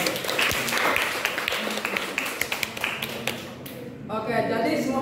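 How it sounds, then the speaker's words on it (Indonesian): A classroom audience claps together for a few seconds in a steady patter of many hands. A voice briefly speaks as the applause fades. "kita berikan aplaus ya atas pertanyaan dan jawaban tadi"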